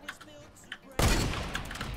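A sniper rifle shot in the Fortnite video game cracks out loud and sudden partway through, followed by a sustained burst of rumbling gunfire noise, after quieter ambient game sounds.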